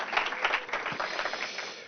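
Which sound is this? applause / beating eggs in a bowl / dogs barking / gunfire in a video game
applause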